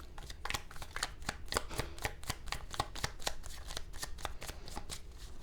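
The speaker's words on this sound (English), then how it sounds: "I'm going to pull a couple more cards over this" Tarot cards being shuffled and handled from the deck during a love reading, a steady run of crisp, rapid riffling flicks close to the mic, continuing without pause and with no talking.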